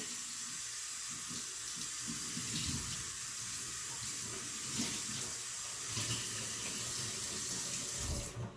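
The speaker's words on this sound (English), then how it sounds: "so I'm going to go ahead and rinse it off again" Tap water runs steadily into a sink, a constant splashing rush with slight changes as a cloth is rinsed under the stream, then it stops.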